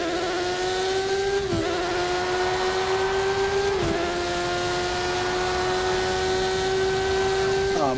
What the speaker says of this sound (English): Oh man, I love the sound of this engine.